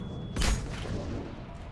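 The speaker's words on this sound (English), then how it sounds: "Well, there's a big fire explosion." A big fire explosion in the Mass Effect 3 video game, a single low boom that bursts out and then rolls into a fading rumble under steady game noise.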